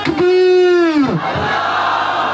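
A large crowd at a religious gathering in Panjpeer, Swabi, shouts a long sustained slogan in unison as a welcome, loud and close, then drops into a murmur.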